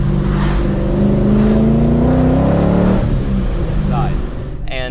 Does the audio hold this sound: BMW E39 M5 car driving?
yes